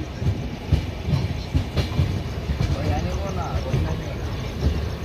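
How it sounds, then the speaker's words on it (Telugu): An ICF passenger train heading toward Bhopal passes close by, its wheels rumbling and clattering steadily on the rails. Someone talks over the noise. "ఇదిగో ఏదో ఐసీఎఫ్ ట్రైన్ ఢిల్లీ వైపు వెళ్తుంది, భోపాల్ వైపు."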